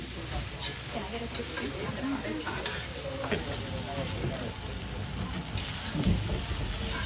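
Pre-cooked rice stir-fries in a hot pan for Guyanese fried rice, a steady crackling sizzle with spatula scrapes, a voice talking intermittently over it.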